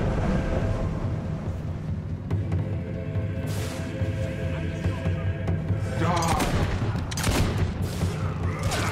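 Gunfire and booming blasts from the video game Fable 2 fill the scene in a dense, continuous barrage, with faint voices mixed underneath.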